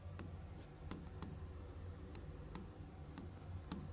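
Marker or chalk writing on a board in a classroom lesson, soft scratchy strokes with sharp taps between them, quiet and close, with no talking.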